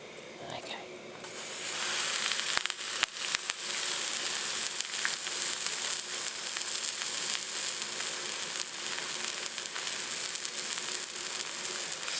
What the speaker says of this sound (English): So this is where we're going to pan fry this bread